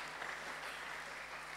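Steady applause from a church congregation acclaiming the Lord, a dense continuous wash of clapping with no distinct individual claps and no talk over it.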